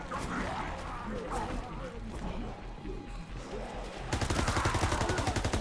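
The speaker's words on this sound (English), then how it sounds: "Now we can shoot again." Rapid automatic gunfire from Call of Duty: WW2 Nazi Zombies, a sustained burst that grows louder and denser toward the end, mixed with other game noise and a voice talking over it.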